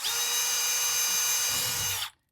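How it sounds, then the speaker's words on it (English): A power drill whines steadily at high speed, pre-drilling a hole in PETG plastic for about two seconds, then spins down and stops abruptly. "I like to pre-drill holes into the PETG"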